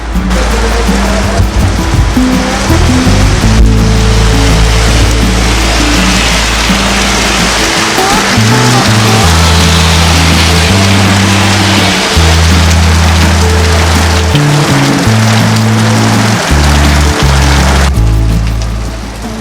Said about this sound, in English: जोर से बारिश हो रहा है